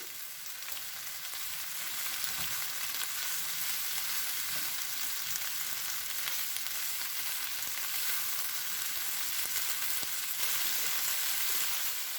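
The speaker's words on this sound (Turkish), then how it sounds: "Hafif sotelediğimiz soğanların üzerine 2 adet kırmızı dolmalık biber, 2 adet de sarı dolmalık biber jülyen doğradım onları katıyorum" Red, yellow and green bell peppers with onions sizzling and frying in a pan, a steady broadband hiss with occasional small crackles and stirring sounds, close and continuous without talk.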